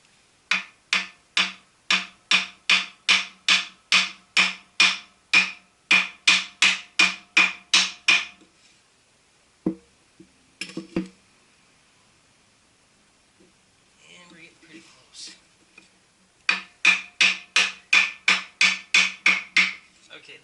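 Steady, rhythmic hammer taps fit a flywheel onto a 1957 Chevy 235 engine: two fast runs of sharp metallic knocks, close and loud, separated by a pause with a few isolated clanks and faint handling noise.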